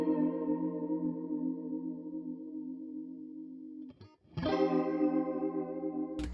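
Synth or guitar tone processed by an audio plugin with a rotary-speaker-like modulation effect, a sustained chorused harmonic note that cuts off near four seconds, then returns louder with a shimmering swirl and a short burst at the end.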